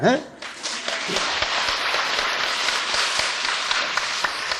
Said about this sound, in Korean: 박수 치지 말라잖아. 박수를 왜 자꾸 박수를 쳐 그래.